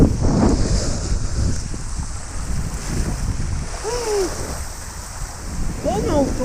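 Rushing water and surf-like wash on the Runoff Rapids raft ride at Blizzard Beach, a steady churning roar with wind buffeting the microphone, and a few brief excited voices and squeals rising over it.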